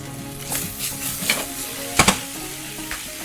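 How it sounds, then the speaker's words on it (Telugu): Ivy gourd fries in a pan with a soft, continuous sizzle close by. The stirring brings occasional scrapes and brief bursts, the loudest pair arriving about two-thirds of the way through. "సాల్ట్ని యాడ్ చేసి ఇంకొంచెం సేపు వేపుకోవాలి"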